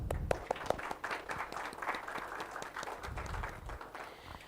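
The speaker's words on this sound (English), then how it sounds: "it is time to have a great round of applause for the brains behind the tournaments" Applause at a cricket tournament event honouring the organisers, a steady patter of many hands clapping at moderate level through the clip with a few sharper close claps and some faint talk mixed in.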